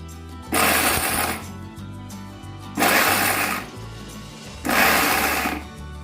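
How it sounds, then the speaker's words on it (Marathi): A kitchen mixer grinder grinds peanuts into a coarse powder, pulsed in three separate roaring bursts of about a second each with short pauses between them, loud and close. "मिक्सर बंद चालू करत कशा पद्धतीने आपल्याला कूट करायचं आहे ते मी आपल्याला दाखवत आहे"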